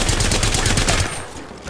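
Rapid gunfire in Apex Legends from a Havoc energy rifle, a quick stream of close, loud shots for about a second before a brief tail fades off.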